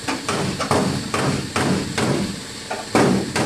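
A hammer strikes a bent, dented car body panel to straighten it in an auto body shop: eight loud, close, ringing metallic blows at an uneven pace, each with a brief reverberant tail.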